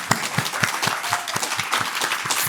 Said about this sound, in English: So can we just have a round of applause for Dawn and her team at P3